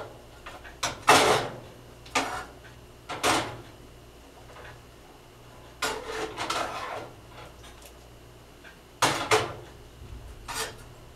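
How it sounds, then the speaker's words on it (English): Cauliflower flipped in a pan with a spatula during cooking: a handful of separate scraping, clattering bursts spaced a few seconds apart, close by, with quiet sizzling background between them. "Flip it with a spatula."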